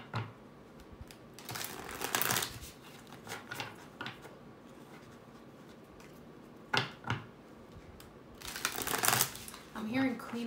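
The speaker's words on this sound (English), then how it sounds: "Let's get a nice, good shuffle." Tarot cards are shuffled by hand in bursts of crisp, riffling flutters, close and fairly loud, separated by quieter pauses with a soft voice now and then.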